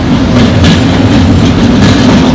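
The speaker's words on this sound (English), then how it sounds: "Yeah, there's a train going by." A train passes loudly and close along a canal near St Pancras Station in London, with a steady low rumble and rhythmic clickety-clack of wheels over the rails throughout.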